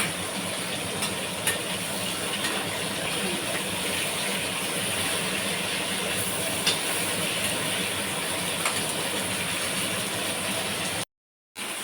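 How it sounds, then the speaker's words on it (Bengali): A kitchen chimney exhaust hood runs loudly while hilsa fish is fried, giving a steady, close, broadband whoosh that continues almost unchanged, with no voices, until it cuts out briefly near the end. "এখানে যেহেতু মেশিনটা চালিয়ে দিয়েছি চিমনিটা ওই জন্য খুব আওয়াজ হচ্ছে"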